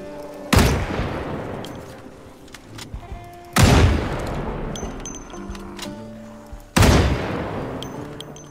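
Gunfire in the survival game Project Zomboid: three single loud shots spaced about three seconds apart, each ringing out and decaying, with faint clicks and small noises between them.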